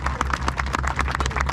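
A crowd at a Holi comic poetry gathering in Hisar, Haryana claps in quick, uneven bursts over a low steady hum, the claps close and fairly loud for a brief moment.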